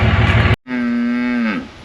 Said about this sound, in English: I'm gonna put these cattle together.